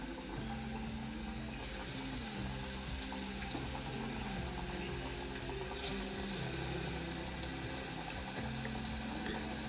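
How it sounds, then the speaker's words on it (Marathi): Small balls of chana dal bhaji batter fry in hot oil with a loud, steady sizzling hiss and crackle that fills the whole stretch without pause, close and with no one talking. "असे तेलामध्ये हळू सोडायचे तेल उडतं आहे"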